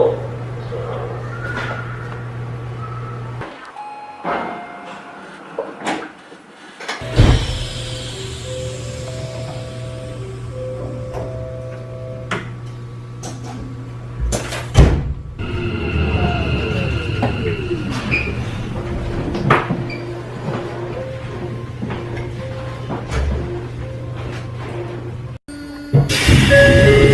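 Door chime tones sound on a Keikyu New 1000 series train over steady carriage hum and hiss, with a few clanks and a sharp noise burst near the end.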